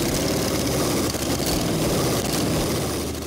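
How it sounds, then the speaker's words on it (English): A custom-built show car engine runs at a steady, loud idle, its continuous rumble filling the space with little variation and no voices. "This engine sounded good."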